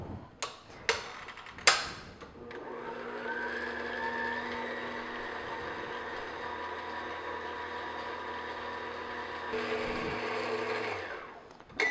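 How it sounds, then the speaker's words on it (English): An electric hand mixer beats egg whites for meringue on medium-low speed, a steady close whirring drone that holds for about ten seconds after a few clattering knocks at the start, then stops. "beat this on medium-low speed, just until the egg whites start to get a little frothy, foamy"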